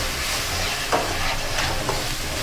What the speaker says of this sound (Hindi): इसको भूनेंगे थोड़ा सा।